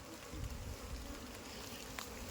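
Aggressive Apis cerana honeybees buzz in a low, continuous drone during a hive relocation in light drizzle, heard faintly without any talk.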